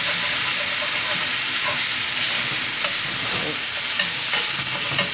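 Ground meat for cheesy sloppy joes sizzles loudly and continuously in a frying pan while being scraped and broken apart, with scattered clicks and taps of a utensil against the pan.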